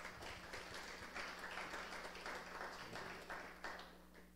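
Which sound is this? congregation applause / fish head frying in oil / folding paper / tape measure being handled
congregation applause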